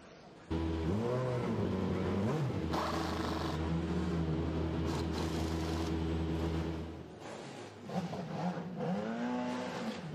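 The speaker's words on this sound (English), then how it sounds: "cars going down pit lane and everybody making their way down towards the start of our qualifying session" Race cars idle and rev through pit lane during Le Mans 24 Hours qualifying in 2017, engines droning steadily at moderate distance with a few rising throttle blips and passing sweeps.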